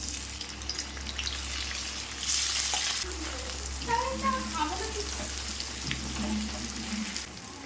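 Paneer pieces sizzle as they drop into hot oil, a steady bright frying hiss with bubbling crackles and some stirring, under a low background hum.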